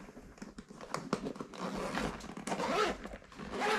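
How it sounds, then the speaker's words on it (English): Zipper being drawn closed on a Viking Voyage large motorcycle backpack, a close, scratchy rasp with crinkling fabric that swells toward the end. "Zip it back up."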